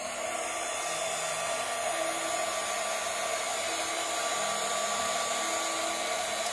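A hair dryer blows steadily on a mushroom gnome candle holder craft, a constant loud whooshing hum that runs unbroken and close throughout, with no talking.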